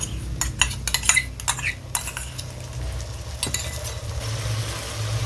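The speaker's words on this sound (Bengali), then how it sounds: "টক দইটাকে আমি ফেটিয়ে নিয়েছি, দিয়ে দিচ্ছি টক দই।" Whisked sour yogurt goes into masala that has released its oil, for a spicy okra dish, with a spoon clinking and scraping against the pan in short bursts, then a steady low sizzle; no one speaks.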